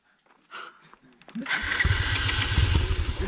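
A KTM Duke 200 motorcycle starting up after a few faint knocks, then running with a loud, rough engine note that rises and holds close by, with no talking.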